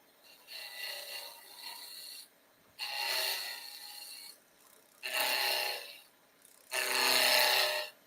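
A skew chisel making peeling cuts on spinning wood on a lathe, heard as four separate scraping, rasping passes of about two seconds each with short quiet gaps between them, close and steady, with no talking.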